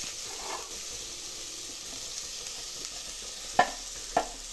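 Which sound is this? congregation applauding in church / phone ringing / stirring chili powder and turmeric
stirring chili powder and turmeric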